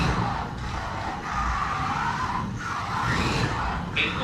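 A Scalextric MG Metro 6R4 slot car whizzing around the track, its electric motor whirring and rising in pitch through repeated passes and corners, steady and close, with no talk.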